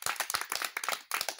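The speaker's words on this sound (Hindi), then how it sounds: "ताली बजाओ" A crowd at a street magic show claps hard and fast in a dense, close burst that breaks off briefly and then starts up again.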